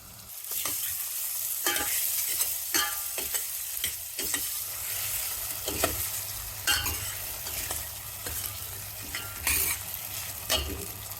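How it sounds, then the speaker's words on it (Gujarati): Tomato and turmeric sautéing in a pan with a steady close sizzle, broken by repeated scrapes and clicks of a spoon stirring. "ટમેટું 2 મિનિટ સોટાઈ થાય ને પછી બધા વેજીટેબલ્સ એક સાથે નાખી દેવાના છે"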